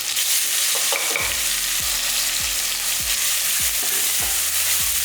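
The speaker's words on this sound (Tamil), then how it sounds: "வெளியே நல்லா வதக்கட்டும்" Ground crab masala paste sizzles steadily in a hot pan, with a spoon scraping and stirring in repeated strokes over the continuous frying hiss.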